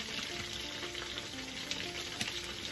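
Chicken sizzles steadily in a frying pan with beans and vegetables, a continuous hiss dotted with small pops and crackles, moderately quiet and close.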